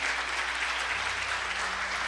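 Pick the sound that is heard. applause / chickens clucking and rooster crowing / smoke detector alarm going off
applause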